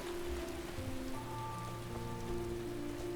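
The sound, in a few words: rain in the video game Skyrim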